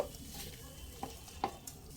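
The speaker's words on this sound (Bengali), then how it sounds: "একবার ভালোভাবে মিশিয়ে দেব" Pea paste with ginger paste being stirred in a kadai, a soft scraping spatula with a few brief clinks over a low sizzle, near and fairly quiet.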